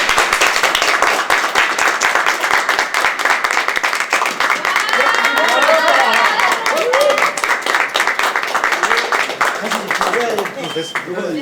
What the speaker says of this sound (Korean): 박수 한번 쳐주셔야죠.